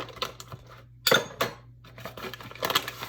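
A metal spoon rattles and clinks inside a bag of flavored ground coffee while a pumpkin spice latte is being made, with a cluster of close, brittle clatters and scrapes in short bursts separated by quieter rustling.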